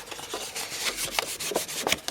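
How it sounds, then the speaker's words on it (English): Card stock being folded along its score lines for a small drawer easel tag card, giving a run of dry papery rubs and creases, with several sharper crackling folds close to the mic and no voices. "you want to fold up all your score lines"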